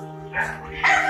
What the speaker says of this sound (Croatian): ovo sam znao da je pas